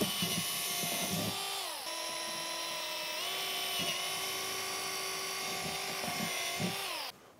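A power drill bores drainage holes through the side of a plastic geranium planter, a high whining buzz in several sustained bursts with brief pitch dips between holes, close and continuous, with no voice.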